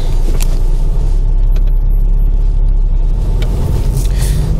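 A car drives along a road past a large lake, its engine and tyre rumble loud and steady from inside the cabin, with a few brief higher whooshes and rattles over the constant drone.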